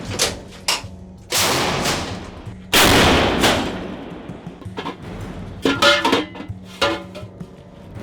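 Several heavy artillery gun blasts boom out near Kupiansk, each followed by a long rumbling decay, with sharper metallic clanks and bangs in between.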